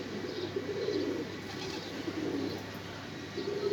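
Pigeons in a coop coo in low, throaty, repeated phrases, close and steady, with no talking over them.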